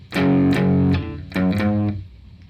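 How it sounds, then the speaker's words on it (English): Distorted electric guitar plays a short riff of power chords and single notes, two chord stabs followed by a pair of quicker hits, loud and close. "So this first bar should sound like this."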